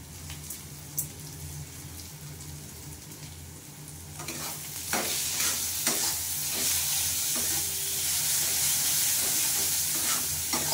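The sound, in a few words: fish stir-frying with Kashmiri chili powder and salt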